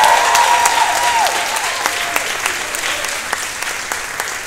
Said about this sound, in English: Let's give another round of applause for our Shakespeare ensemble.